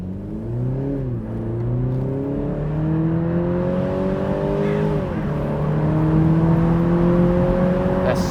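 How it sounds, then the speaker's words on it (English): BMW Z4 G29 20i in manual sport mode accelerating from inside the cabin, the engine drone rising in pitch through gears with a brief dip at each shift, steady and fairly loud. "going to do a accelerate in manual mode, sport mode"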